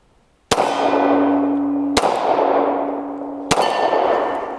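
Three sharp, loud gunshots from a Glock 23 .40 caliber pistol, evenly spaced about one and a half seconds apart, each with a ringing tail that fades before the next.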